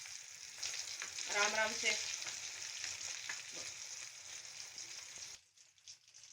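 Beef shami kebabs fry in hot oil with a bright, crackling sizzle that is loudest early on and then eases. A quiet voice speaks briefly, and the frying cuts off near the end.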